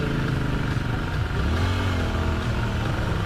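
A nearby motorcycle engine runs loudly and revs once, its pitch sweeping up and then holding steady amid a dense, rumbling background.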